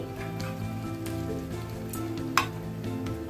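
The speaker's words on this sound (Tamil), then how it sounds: "இப்போ வத்தல் மிளகாய், இந்த உளுந்த பருப்பு எல்லாமே நல்லா சிவக்க நம்ம வறுத்தாச்சு" Urad dal and dried red chilies frying in oil for ridge gourd chutney, a continuous close sizzle with faint spatter and one brief sharp clink.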